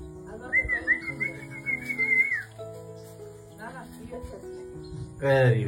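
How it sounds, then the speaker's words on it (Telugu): A person whistles a wavering, sustained tune up close, with people talking around it and a voice briefly. "విజిల్ కొడితే వీటికి ఇంట్రెస్ట్"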